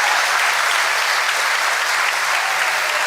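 Steady, dense applause from an audience fills the whole stretch, loud and continuous without a break or any voices standing out.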